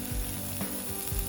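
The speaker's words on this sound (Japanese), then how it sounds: "せっかくこのプレート買ったんでちょっと焼肉にしてみました" Yakiniku meat sizzles on a grill plate outdoors, a steady, close frying hiss with a few soft stirring bumps and no talking.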